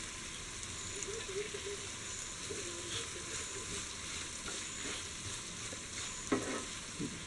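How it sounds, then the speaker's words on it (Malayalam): Curry leaves hitting hot oil in a frying pan for Kerala-style chicken curry, giving a continuous close crackling sizzle with light stirring scrapes and a brief louder pop near the end. "ഇതിലേക്ക് കറിവേപ്പില കൂടെ ആഡ് ചെയ്യാം."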